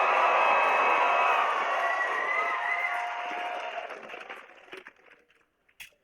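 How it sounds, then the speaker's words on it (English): A large crowd at a longsword tournament cheers loudly from the start, a broad roar of shouting voices that holds steady and then gradually fades away into near silence. "can we get the loudest cheer ever?"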